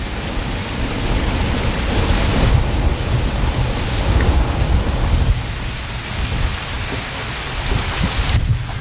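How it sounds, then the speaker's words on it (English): Wind slaps broken ice against the water beside a floating dock, making a dense, steady rain-like patter and hiss that continues without pause or voices. "It sounds like rain, but it's actually the wind's slapping the ice here."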